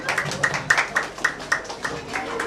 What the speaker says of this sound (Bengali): আমরা হাততালি দিই।